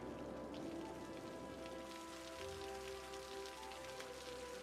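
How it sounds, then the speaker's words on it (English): Steady rain falls in a city-building video game, a dense even patter of drops that continues without a break, with faint tonal game ambience underneath and no talking. "It'd be cool if it stopped raining."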